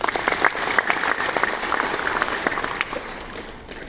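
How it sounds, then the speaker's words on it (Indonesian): Audience applause at a congress opening ceremony in Indonesia, a dense, sustained burst of clapping from a large crowd that tapers slightly toward the end. "Tepuk tangan untuk Pancasila."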